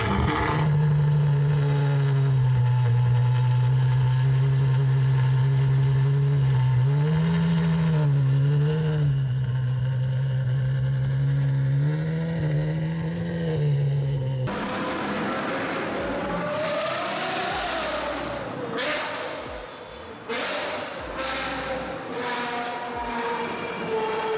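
A V12 sports car engine roars, first holding a loud, sustained rumble with wavering revs, then switching to a sharper, higher-pitched howl with abrupt throttle blips and gear shifts.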